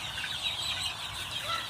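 Chickens clucking softly while eating larvae, a continuous chorus of close, busy clucks and murmurs from several birds with no talk.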